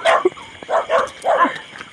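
Dogs barking outdoors at night during a hunt, with several short, sharp barks and yips coming in uneven bursts at moderate distance and no voices.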